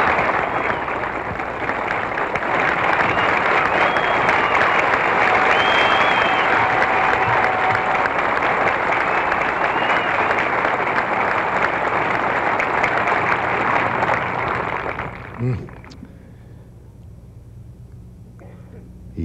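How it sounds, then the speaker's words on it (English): Golf gallery at the 1971 US Open applauding a par putt, dense sustained clapping from a large crowd for about fifteen seconds before it fades quickly to quiet murmurs. "Listen to this applause."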